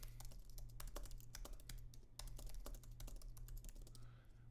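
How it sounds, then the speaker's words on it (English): Rapid typing on a computer keyboard, a steady run of close, crisp key clicks with brief pauses and a low constant hum underneath; no voices. "Let me type some in the chat."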